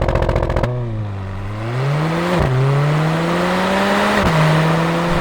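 A 2018 Mercedes-AMG GLA45 hot hatch launches hard using launch control, its engine note climbing loudly and then dipping sharply at quick gear shifts, close and aggressive with no talk over it.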